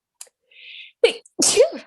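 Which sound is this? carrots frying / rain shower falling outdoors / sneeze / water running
sneeze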